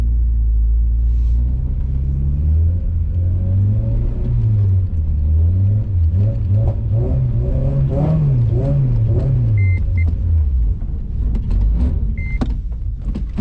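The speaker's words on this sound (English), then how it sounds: "we're gonna do a little bit of snow drifting here" A car's engine revs and wavers hard through repeated rising and falling pitch sweeps while drifting in snow, loud and close for the whole stretch, with no talk.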